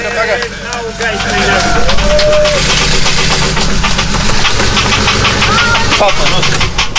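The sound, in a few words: car engine ticking, failing after start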